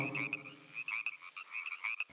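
Frogs croaking in a pond or marsh setting, a series of rapid, pulsing calls with a strong nasal tone, repeating in uneven bursts across the clip with no talk.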